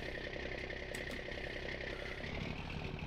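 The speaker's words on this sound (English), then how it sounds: "Gotta start the old Kenworth up." An old Kenworth truck engine idles steadily in Farming Simulator 19, with a constant low, even rumble and faint clatter throughout and no voices.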